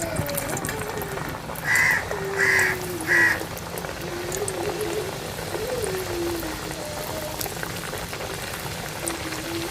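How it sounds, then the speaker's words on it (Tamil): Wheat-flour-coated chicken snack pieces fry in hot oil with a dense, steady bubbling sizzle throughout, close and fairly loud, broken briefly by a few short chirping tones near the start. "இப்போ வந்து நம்ம ஒவ்வொரு பீஸாக போட்டு பொரித்து எடுக்க போகிறோம்."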